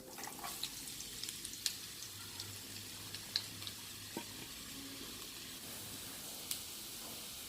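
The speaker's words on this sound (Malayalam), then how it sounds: "എന്നിട്ട് നമുക്ക് സവാള വഴറ്റിയെടുക്കാം" Two medium onions sautéing with a little salt in coconut oil in a pan make a faint, soft sizzle scattered with occasional small crackling pops and ticks, with no one talking.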